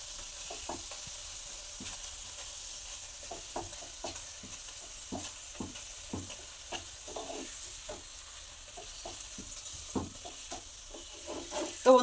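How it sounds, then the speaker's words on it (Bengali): Fenugreek leaf paratha fries in a pan with a soft, steady sizzle broken by scattered stirring clicks and scrapes, fairly quiet and close, without speech. "এরকম লাল লাল করে একটু ভেজে নেব, তাহলে খেতে ভালো লাগবে, টেস্টও হবে।"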